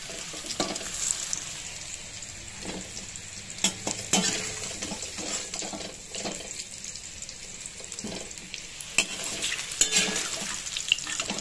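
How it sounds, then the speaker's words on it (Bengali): Chandramukhi potatoes frying in hot oil in a home kitchen pan, a continuous close sizzle with scraping stirs and occasional clinks of utensils, no talking. "চন্দ্রমুখী আলু খুব তাড়াতাড়ি ভাজা হয়ে যায়"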